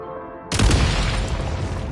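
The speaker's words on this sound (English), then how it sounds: "Shoot the explosives to detonate them and clear the path" A video game explosion goes off as a sudden loud boom, then a dense rumbling roar holds steady to the end. A quiet tonal drone plays beforehand.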